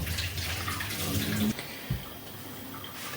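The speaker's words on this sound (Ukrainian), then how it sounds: "Тому цей, цю воду ми зливаємо." Water is poured off from jars of cucumbers being preserved for winter, a steady rushing splash close by that ends abruptly partway through, followed by a quieter trickle and a small knock.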